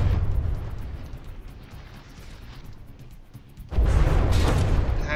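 A warship in the From the Depths game takes hits, deep rumbling explosions rolling over each other, fading briefly before a loud, dense burst of blasts erupts near the end.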